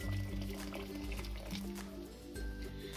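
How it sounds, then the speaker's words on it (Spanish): Freshly boiled water is poured into a pot of cooking charro beans, giving a steady close-up liquid gurgle and splash for a few seconds, fairly quiet and without talk. "yo voy a agregar un poquito más de agua"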